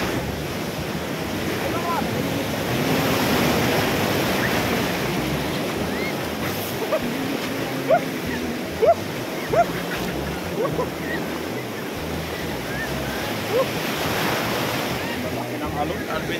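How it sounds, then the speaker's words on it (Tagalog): Large ocean waves surge and crash onto the shore, a continuous broad roar with wind buffeting the microphone, sustained and fairly loud throughout with a few short sharper splashes. "Binangga tayo ng alon."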